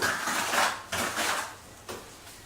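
Thick shower tile grout for a pebble-tile floor being mixed to work out the lumps, heard as repeated gritty scraping strokes in close bursts with short pauses between them.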